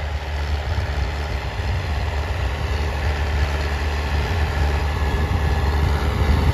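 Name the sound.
tractor engine idling in a wheat field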